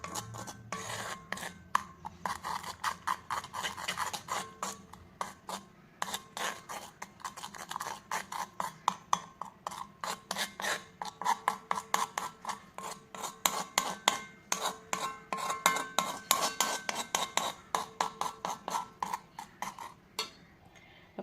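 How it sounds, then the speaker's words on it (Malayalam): Natural hair dye powders are stirred together in a bowl, giving a close, dry scraping and rubbing with quick repeated strokes that speed into a steady rhythm, with no voices. "പിന്നെ ഇതെല്ലാം കൂടി ഒന്നുകൂടെ ഒന്ന് നല്ലപോലെ ഒന്ന് മിക്സ് ചെയ്ത് കൊടുക്കാം."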